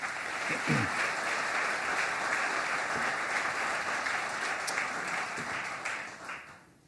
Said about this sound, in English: in memory of him, let's just give him a round of applause